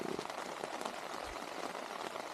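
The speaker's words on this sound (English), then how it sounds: "it is raining" Steady nighttime rain in the Swiss Alps patters on a surface, a dense crackling hiss of droplets, fairly close and even throughout.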